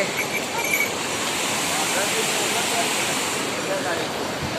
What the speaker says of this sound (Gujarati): ગંગા નદી એ પડખે કેટલી અવાજ કરે છે